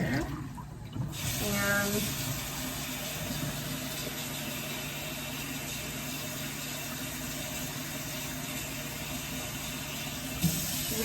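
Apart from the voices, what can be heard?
running tap filling with cold water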